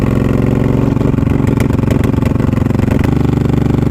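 A $200 auction motorcycle with a misfiring cylinder that has just kicked in runs loud and close while being ridden, its uneven clattering engine pulsing in a rough, irregular rhythm.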